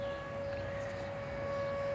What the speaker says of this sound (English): Looks like tornado sirens are going off in this area.